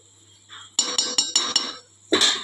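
A metal lid goes onto a cooking pot of gongura curry with a run of sharp clinks and rattles, about five quick metallic knocks and then a final louder clatter, close and loud.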